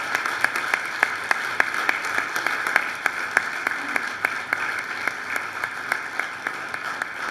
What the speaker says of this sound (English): Let's give a nice round of applause to all the students.